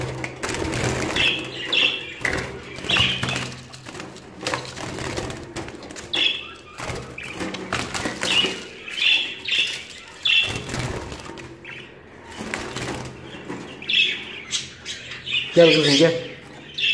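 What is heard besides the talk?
budgerigars squawking and chirping in cage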